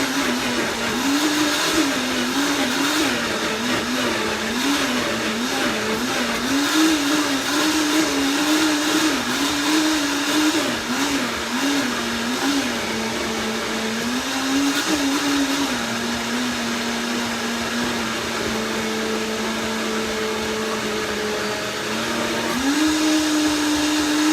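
Loud, continuous blender motor whirring through a strawberry cheesecake smoothie, pitch wobbling early then settling lower before rising again near the end; no voices.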